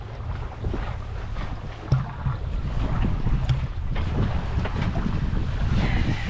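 A sailboat under way on open water: a continuous rush of wind over the microphone with low water wash beneath, fairly loud and even throughout, with no voices.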